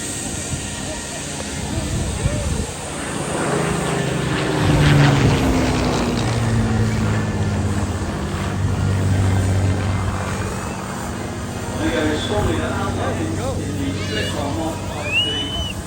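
A WWII-era propeller aircraft passes overhead at a vintage steam rally at Woodcote, its engine drone swelling and fading over about sixteen seconds, with a few people talking nearby beneath it.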